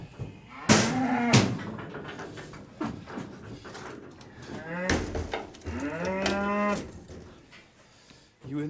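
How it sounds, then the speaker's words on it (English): Cattle bellow repeatedly as they are loaded for the abattoir, several loud, drawn-out moos close by with quieter gaps and rustling between them. "let's see if I can load these cattle"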